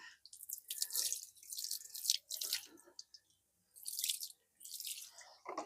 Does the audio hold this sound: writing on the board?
no